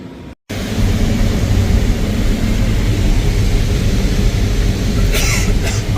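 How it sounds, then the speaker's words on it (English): A John Deere X9 1100 combine fitted with a 16-row head harvests corn, its engine and threshing drone a loud, steady broadband roar throughout, with no talk. "unbelievable how much corn is coming into this combine right now"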